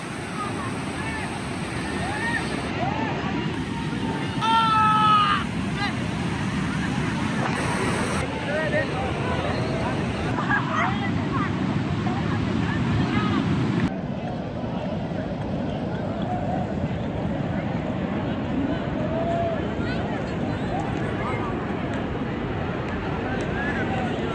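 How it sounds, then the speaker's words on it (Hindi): Fast-flowing water of the Saryu river rushes in a steady, wind-buffeted wash throughout, with brief louder bursts and some faint sounds early on. "ये पानी की धारा काफी तेज है।"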